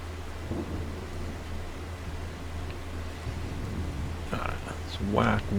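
Thunderstorm with rain in the Farming Simulator 25 video game, a steady rain hiss under a low rumble of distant thunder, with someone talking over it toward the end.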